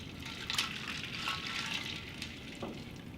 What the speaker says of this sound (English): I like rinsing off chicken in a bowl of water instead of in my sink